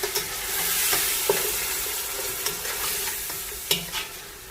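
Spices and karela gosht, bitter gourd with meat and a splash of water, sizzle loudly in a pan while being stirred and fried, with scattered scraping clicks of the spoon.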